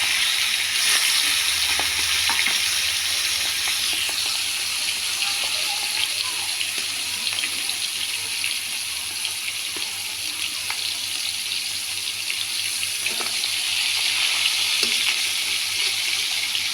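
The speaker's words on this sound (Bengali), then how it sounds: "এটাকে এবার আমি তেলে ভাজা করে দেব" Marinated chicken pieces for chicken biryani fry in hot oil with a steady, close sizzle that holds evenly throughout, broken by occasional faint clicks and scrapes.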